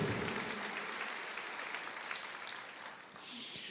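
A church congregation applauds the Lord during a sermon, a soft, distant wash of clapping that holds steady and thins out slightly toward the end, with faint voices beneath.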